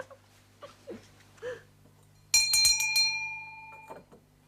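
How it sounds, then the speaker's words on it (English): A hand bell rung to summon a servant in a period household, a bright clear ring with several quick strokes and a lingering shimmering decay after soft background sounds. "Will you ring the bell for me?"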